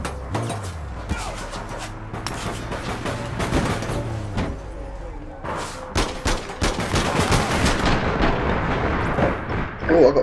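Gunfire from the online shooter APB Reloaded: rapid bursts of shots and impacts crackle densely throughout, loud and close, with brief pauses, mixed with game effects and low rumbling.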